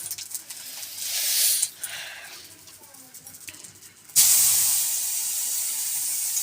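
Cumin seeds and onion frying in hot oil in a wok, soft hissing at first, then a loud, sharp sizzle that erupts and holds steady close by.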